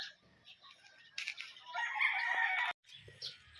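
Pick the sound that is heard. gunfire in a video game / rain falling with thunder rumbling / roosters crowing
roosters crowing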